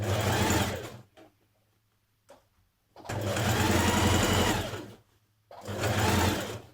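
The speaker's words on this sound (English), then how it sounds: "Now baste both layers together at the waistline." A sewing machine basts both layers of a dress skirt together at the waistline in three bursts of steady, close, loud stitching, separated by short pauses with a soft click between.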